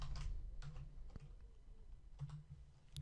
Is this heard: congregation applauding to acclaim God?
no